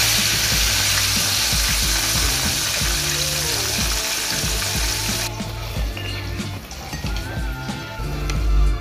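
Crispy chicken drumsticks deep-frying in hot oil, a loud dense sizzle up close that drops to a softer bubbling crackle partway through, with occasional clinks and a background tune.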